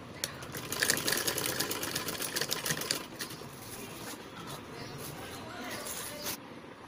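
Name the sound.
sewing machine stitching a blouse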